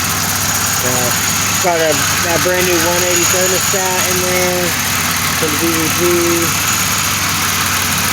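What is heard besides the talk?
1997 Grand Prix GTP engine idling smoothly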